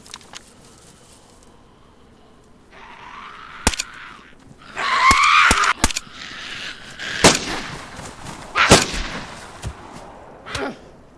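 Video game gunfire rings out in sharp, loud bursts scattered across the stretch, single cracks and short clusters of shots standing out over a steady game background with no talk.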